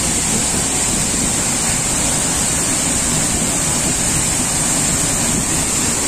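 Waterfall at Hang Dơi in Kbang, Gia Lai, a drop of about ten metres with spray and rocks around it, roaring as a steady, loud, broadband rush of falling water with no voices.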